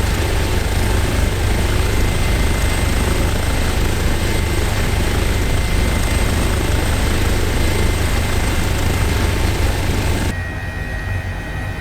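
A steady, loud helicopter rotor and engine drone from an H145 in Microsoft Flight Simulator runs without a break, then drops noticeably quieter near the end. No one speaks.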